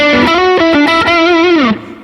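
Electric guitar run through a Klon overdrive pedal at full distortion with no clean blend, loud saturated sustained notes sliding and bending for about two seconds before the sound cuts to a decaying tail.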